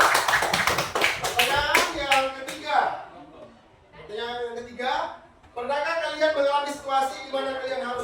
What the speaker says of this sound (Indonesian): Ya, berikan aplaus.